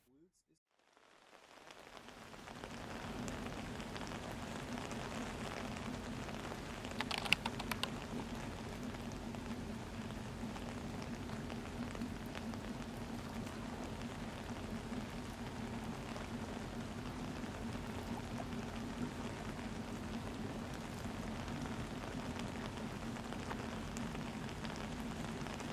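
Heavy rain pours steadily in the early morning on a mountain trail during a long-distance hike, a dense, continuous hiss after a quiet first couple of seconds, with a brief sharper burst of drops around the seventh second.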